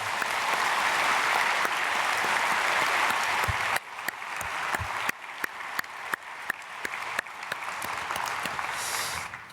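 A church congregation at a dawn prayer service bursts into loud, full applause as a blessing for a family, then it thins into scattered distinct claps before fading.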